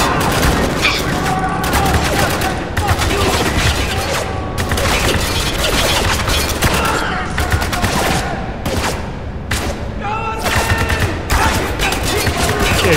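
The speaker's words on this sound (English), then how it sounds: "we're taking some heavy fire" Heavy gunfire in the video game Spec Ops: The Line, set in Dubai: dense, loud, continuous bursts of automatic fire with short gaps between volleys, voices shouting faintly underneath.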